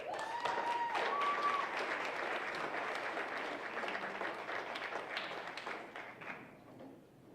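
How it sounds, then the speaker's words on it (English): An audience at a community talent show claps loudly and steadily for a performer coming to the stage, the applause holding strong before thinning out toward the end. "please give a round of applause for Bob Olson and bring him to the stage"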